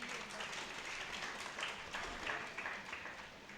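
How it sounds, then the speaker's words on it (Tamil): Audience applause at a Tamil community gathering, a steady wash of clapping from a crowd, moderately loud and continuous with no talk over it. "நல்லா கைதட்டுங்க"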